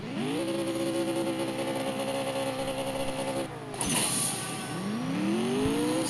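COPO Camaro in the CSR2 racing game, engine revving high and holding steady, then a gear shift and a fresh rising rev as nitrous kicks in, loud and close.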